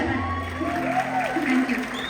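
A crowd at an evening gathering of Rajkumar fans in Qatar claps in a loose, moderate burst while a voice carries over the top, the applause sitting partly beneath it.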